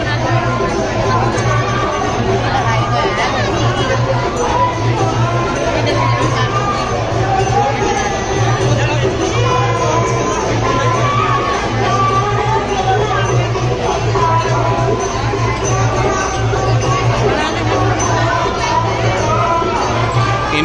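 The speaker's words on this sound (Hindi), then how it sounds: "आज थोड़ी सी भीड़ है।" A crowd gathers at the entrance of the Khurja Wali Maiya temple, a dense, continuous hubbub of overlapping voices and chatter with a steady low hum beneath, loud and close throughout.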